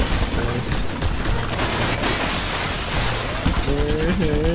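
Gunfire in the video game Just Cause 2 comes as dense, loud rattling bursts with mechanical clatter, and a voice briefly talks near the end.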